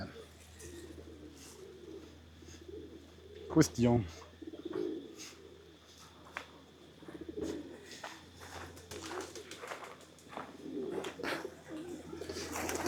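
Soft pigeon coos murmur now and then beneath a brief spoken word at Wat Umong temple in Chiang Mai, Thailand, with scattered small clicks and taps around them.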